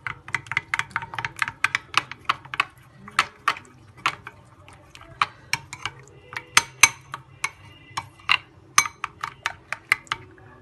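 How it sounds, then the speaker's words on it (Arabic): A spoon scrapes and clinks briskly against a bowl while tahini is stirred with salt and spices, a steady run of sharp taps and scrapes close by, with no voices. "نقلب بقى الخليط كده مع بعضه."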